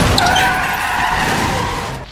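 Car tires skidding and squealing in a Final Destination film scene, a loud sustained screech that fades near the end.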